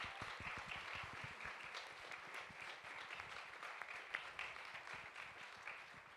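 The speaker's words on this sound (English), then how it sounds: "If everyone can give them a big round of applause," Audience in a theatre at a music industry conference applauds the panelists, many hands clapping in a steady, fairly distant patter that carries on throughout, quiet overall.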